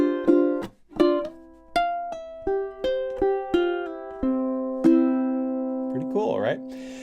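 Ukulele playing the closing section of a piece, a bright run of plucked and strummed notes that settles into ringing sustained tones near the end, played up close with no talking.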